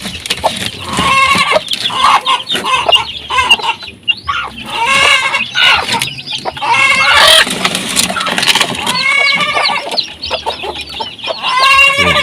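Hens cluck and squawk loudly and continuously in a poultry coop with hatching chicks, dense overlapping calls up close with occasional sharper cackles.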